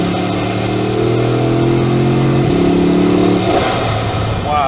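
An 8-litre W16 car engine revs hard and close, its pitch climbing and dropping in steady waves, loud and continuous throughout.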